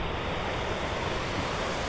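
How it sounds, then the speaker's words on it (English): A waterfall cascading down a mountain valley near Imlil, Morocco, a dense, steady broadband rush of water, close and continuous with no breaks. "waterfall running down the valley there which looks absolutely beautiful"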